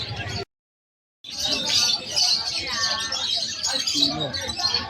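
Zebra finches and diamond doves at a pet market chirp constantly in a close, busy chorus of high tweets and trills, with a brief cut to silence near the start and faint voices underneath.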